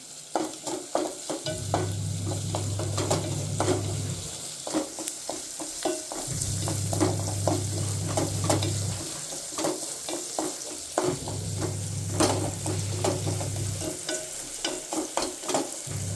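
Food fries in a home kitchen pan with a steady sizzle, broken by repeated scraping strokes of stirring that come in uneven bursts throughout, close and fairly loud.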